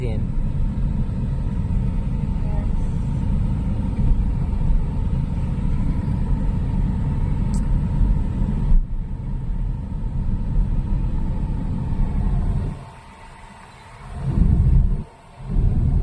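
A car engine rumbles steadily while a learner driver gives it gentle throttle during a driving lesson, a continuous loud drone that drops away briefly near the end; people talk over it throughout.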